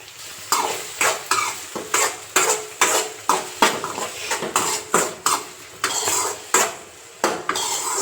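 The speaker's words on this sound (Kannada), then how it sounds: "ಟೊಮ್ಯಾಟೋನ ಇವಾಗ ಫ್ರೈ ಮಾಡೋಣ ನೀಟಾಗಿ." Tomatoes frying in a pan for a home dinner, stirred with a utensil in steady rhythmic scrapes and clinks against the metal, about a dozen strokes over a soft background sizzle, close and alone.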